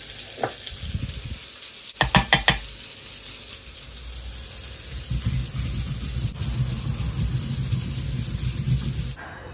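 Fish fries in hot oil with a steady, close sizzle, broken by a few sharp clinks early on and a louder bubbling stretch later, with no talking.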